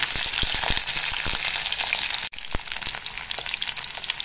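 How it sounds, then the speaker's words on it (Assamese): Fish sizzles in hot oil in a wok, a loud, crackling fry with sharp pops scattered through it, briefly cut near the middle and then going on. "ইতিমধ্যে কেৰাহীটোত তেল গৰম হ'বলৈ দিছো বেছি তেল দিয়া না যেটো খাৰ বনাম মাছখিনি ইয়াতে দি দিছো"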